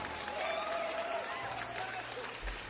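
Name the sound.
applause for radio listeners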